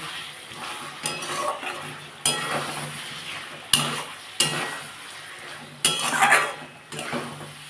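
Turmeric and chilli sautéed with ginger-garlic paste in a pan for a Bengali egg curry with new potatoes: a steady sizzle under repeated scraping strokes of a metal spoon, with several sharp clanks against the pan.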